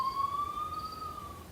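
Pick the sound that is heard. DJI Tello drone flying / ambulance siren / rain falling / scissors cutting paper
ambulance siren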